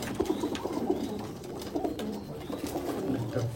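Ablue-type pigeons kept in a home loft coo in soft, repeated low throaty rolls, several birds overlapping at close range over a quiet background.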